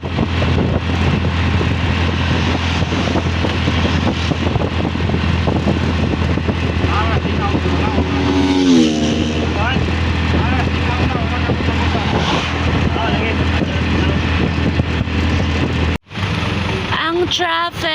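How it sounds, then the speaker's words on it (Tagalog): Heavy city traffic rumbles and hisses outside a car, with engines, passing vehicles and wind noise in a constant drone, plus a brief sharp break near the end. "Super traffic!"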